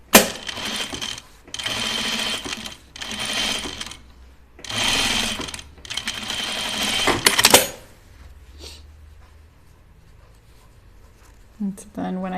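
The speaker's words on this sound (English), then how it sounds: "Oh, here, I'll understitch this right now." Sewing machine understitching a dress seam, running in four or five loud rhythmic bursts with short pauses between, then stopping; quieter handling noises follow, with a voice heard in the background.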